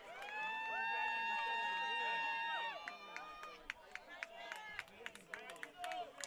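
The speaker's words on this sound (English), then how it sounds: "The Tufts crowd has come alive to the left side of us here in our broadcast booth" Tufts crowd at a 2017 NESCAC college baseball game against Amherst breaks into sustained whoops and cheers, heard at a distance from the broadcast booth, then trails off into scattered claps and shouts.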